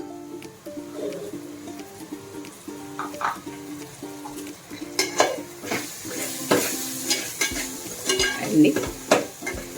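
Chili powder and curry leaves stirred into onions frying in a pan for Telugu-style fish curry, a spoon scraping in repeated strokes over a steady sizzle, close by, with a brief spoken word.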